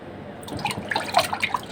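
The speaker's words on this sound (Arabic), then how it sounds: "بروح غاليه لها ميه، بفور لها حبه ميه صغيره، وبعدين ما انزل فيها ايه الكوارع تفرفره فيها" Water bubbling and dripping in a pot as it comes to the boil for cow trotters in a home kitchen, giving small irregular gurgles and splashes close by, with no talking.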